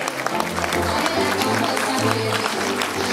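Audience applause at a running race awards ceremony in Nuits-Saint-Georges, loud continuous clapping from a crowd close by, with a voice speaking over it.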